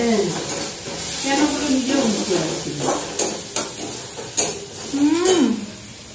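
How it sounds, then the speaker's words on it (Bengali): Food fries in a pan at home with a steady sizzle, broken by several scraping stirs, while voices murmur faintly in the background. "দেখি মায়ের ভাজা হচ্ছে কিনা"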